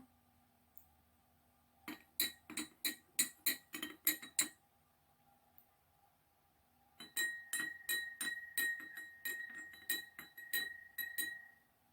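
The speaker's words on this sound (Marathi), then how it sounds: "तर हे सर्व कलर आपण चमच्याने मिक्स करून घेऊया।" A spoon stirs colouring in water-filled glasses for floating diya decorations, clinking sharply against the glass in two quick rhythmic bursts of bright, ringing taps, close and clear with no voices.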